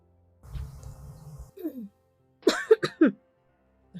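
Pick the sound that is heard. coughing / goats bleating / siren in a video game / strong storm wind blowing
coughing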